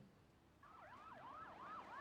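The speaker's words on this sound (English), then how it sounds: "An ambulance is screaming in the background." An ambulance siren wails in a repeating up-and-down sweep, faint and distant in the background over low ambient noise, starting partway through and continuing steadily to the end.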